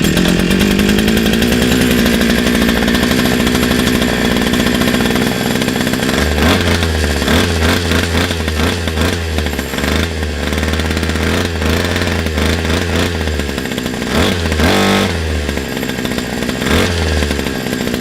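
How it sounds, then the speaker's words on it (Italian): A FUXTEC FX-MS152T 52cc petrol brush cutter engine runs loud and close, a buzzing two-stroke drone that holds steady and then rises and falls as the throttle is revved repeatedly. "il motore gira come un orologio,"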